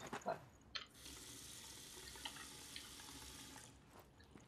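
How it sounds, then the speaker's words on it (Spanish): Water runs steadily from a tap as a bottle is refilled in the survival video game Zhelter, a close hissing stream lasting about three seconds with small clicks before and after. "una botellita de agua, rellena."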